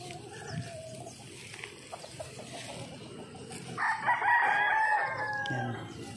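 A young gamecock stag crows once, clear and fairly close, its call rising and trailing off over about two seconds after some low clucks and ambient yard noise.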